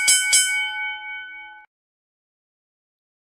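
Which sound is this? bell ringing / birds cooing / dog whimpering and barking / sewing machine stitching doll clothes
bell ringing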